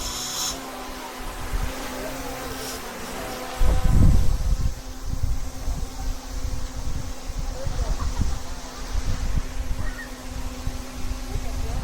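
A bee buzzes close by outdoors on Jomalig Island in the Philippines. A thin, steady drone runs under wind and rustling, with brief vocal sounds and handling bumps.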